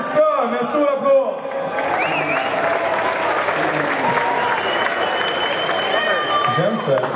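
A crowd applauds and cheers for a hardstyle DJ as he is introduced, with clapping, whoops and a few shouting voices over a steady roar throughout.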